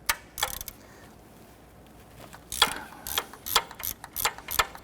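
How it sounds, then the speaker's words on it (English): A ratchet loosening a 14mm bolt on the 2.2L four-cylinder engine of a 1992-1996 Toyota Camry, with a couple of early clicks, a pause, then a close run of sharp rapid ratcheting bursts. "I'm going to loosen that bolt."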